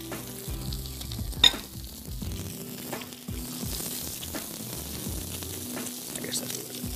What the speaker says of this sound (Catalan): amb una altra paella marcarem aquesta patata al caliu,